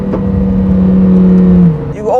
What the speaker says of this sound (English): The exhaust noise is a bit of a controversial subject with me